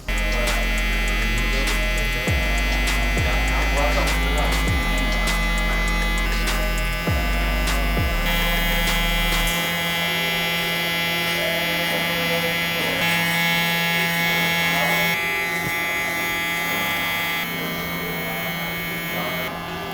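An electric beard trimmer buzzes steadily close by as it cleans up edges around the ears and neck, a continuous whining hum with small shifts in pitch as it moves against skin and hair, briefly stopping and restarting early on.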